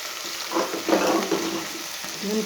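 Field beans (avarekai) frying in hot oil give a steady close sizzle with soft crackling bursts and a few stirring scrapes, no voices.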